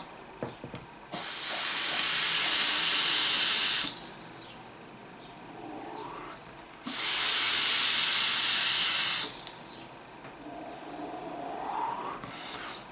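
Vape coil at 0.3 ohm on an Eleaf iJust 2 with a Bombina dripper, two loud, steady hissing puffs of about three seconds each, separated by quieter pauses with faint crackle.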